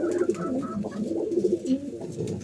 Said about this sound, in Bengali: এখানে যেগুলো কবুতর আছে ম্যাক্সিমাম কবুতরে এখন বাচ্চা ফুরানো আছে, বাচ্চা ফুড়ে যাচ্ছে।